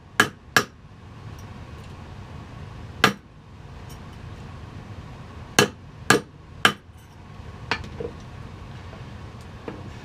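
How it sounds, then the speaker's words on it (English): Small hammer shaping a metal spoon ring, a handful of sharp, separate strikes spaced irregularly across the clip over a steady low background hum. "these little hammers are nice too because it don't hurt the material"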